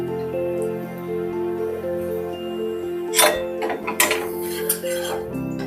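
A spoon scrapes and taps against metal pots as lightly browned fried okra is moved from one pot to another, clattering clinks over a steady background hum.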